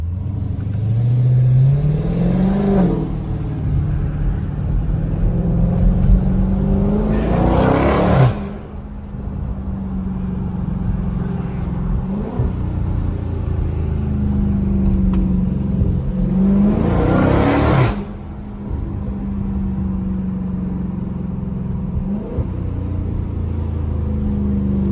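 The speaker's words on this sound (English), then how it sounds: "I had to crack the windows a little so I can hear that motherfucking exhaust." 2023 Dodge Charger Scat Pack Hemi V8 exhaust heard from inside while accelerating, a loud deep rumble rising in pitch through two long pulls, each cut by a sharp upshift, then settling to a steady drone.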